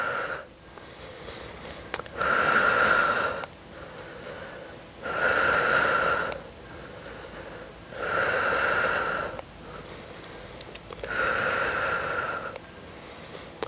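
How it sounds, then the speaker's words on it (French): Loud, close breaths during an abdominal exercise in a muscle-strengthening workout, with four strong airy exhales of about 1.5 seconds each at a steady rhythm of roughly three seconds, separated by quieter inhales, and no talking. "Inspire et expire."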